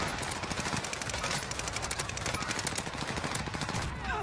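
Rapid video game gunfire during a competitive tournament match, dense bursts of automatic shots crackling continuously throughout, loud and close with busy game effects layered in.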